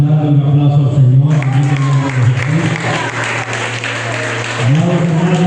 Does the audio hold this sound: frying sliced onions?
no